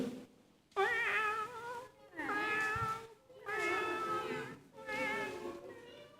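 Children imitate cats greeting each other, their voices making four drawn-out, wavering meows one after another with short pauses between, close and clear, in a meeting setting.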